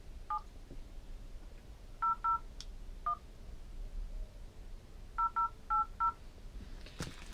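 Mobile phone keypad tones dialing a number, several short two-tone beeps in separate bursts: one, then a pair, then one, then a run of four, set against a quiet background with a brief click near the end.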